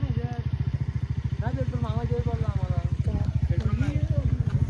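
A motorcycle engine idles and revs with a steady rapid putter as three bikes set off, while voices talk over it nearby.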